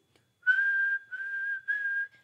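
A person whistles three sustained, fairly steady notes in quick succession against near silence, each held for about half a second.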